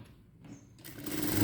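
Sewing machine stitching blouse fabric, a faint, short run after a brief quiet start, the motor whir swelling louder toward the end.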